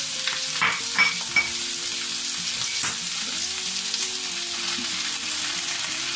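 Garlic sizzles steadily in a pan for a fish meunière sauce, with a continuous frying hiss and a few clicks and scrapes of stirring and utensils, close and fairly loud with no voices.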